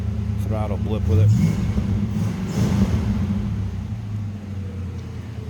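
Close-up 5.0 V8 of a 1991 Ford Mustang LX convertible idles with a deep rumble, swelling briefly in two quick throttle rises, while someone speaks over it at the start.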